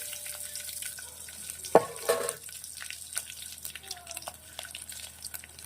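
Whole peppercorns, clove, cinnamon, bay leaf and garlic drop into hot oil, a sharp splash-like burst followed by a steady faint sizzle and light crackling, no voices.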